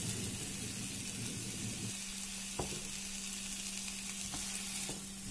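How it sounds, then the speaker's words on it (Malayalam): Cooked peanuts stirred into a sizzling onion and tomato masala in a pan, a hissing fry that settles into a quieter steady sizzle with a few faint spoon taps, close and soft, no voices. "ഇനി ഇതിലേക്ക് നമ്മൾ വേവിച്ച് വെച്ചിരിക്കുന്ന കപ്പലണ്ടി ചേർത്ത് കൊടുക്കാം"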